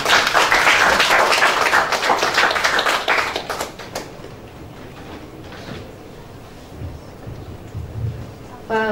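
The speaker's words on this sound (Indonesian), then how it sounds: "Wow, boleh beri tepuk tangan sekali lagi" Audience applause at a church youth service, a dense burst of clapping for the first few seconds that quickly thins into scattered claps and room noise, fairly near and loud.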